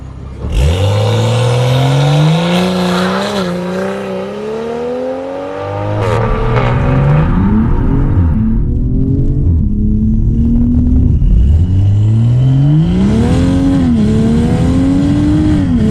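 A BMW M340i xDrive with an aftermarket downpipe launches hard, its engine note sweeping up sharply through several rising pulls with brief drops at the gear changes, loud and close throughout.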